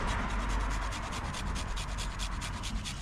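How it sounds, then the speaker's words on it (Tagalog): Cassava being grated by hand on a grater for suman, a steady rhythmic rasping scrape repeating several times a second, close and continuous with no talk. "Kuskusin na natin."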